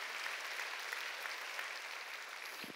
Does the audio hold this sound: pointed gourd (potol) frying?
no